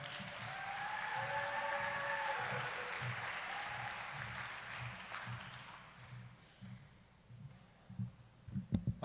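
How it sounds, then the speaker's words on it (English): An audience at a community awards event applauds as a company president comes to the stage, a broad steady wash of clapping that fades out into a few scattered claps and footsteps. "a round of applause for Devin."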